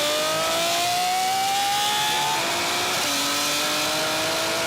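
A Koenigsegg Jesko, a Lamborghini Revuelto and a 1,000hp BMW M3 accelerate hard in a third-gear rolling drag race, the loud engine note rising in pitch, then dropping briefly at a gear change before climbing again.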